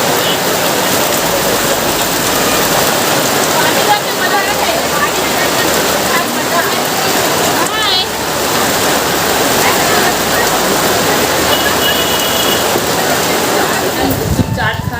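Heavy rain pours onto a road in a dense, constant roar that stays loud throughout, with a brief louder rush near the end.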